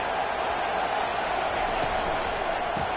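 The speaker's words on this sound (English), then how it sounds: "It is getting loud as this crowd tries to help its defense." A large college football stadium crowd roars continuously, a dense, loud wall of cheering and noise with no break, at a Kentucky vs Virginia Tech game.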